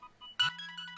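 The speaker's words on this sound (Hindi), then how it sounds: "तुम्हारा फोन बज रहा है।" A phone ringtone chimes loudly and close in a quiet home, a bright electronic melody with a steady low tone beneath, starting abruptly partway through and continuing in short repeating notes.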